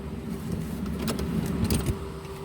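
A car engine idles steadily at close range in cold weather, a continuous low rumble with faint jingling and clicks over it.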